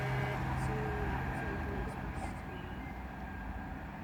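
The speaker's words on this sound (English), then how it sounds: "now passing through now, we're going to have a service to Cardiff, formed of a cross-country 170" A Cross Country Class 170 diesel unit to Cardiff passes through Water Orton station, a broad steady rumble of wheels and engine fading slightly over a few seconds.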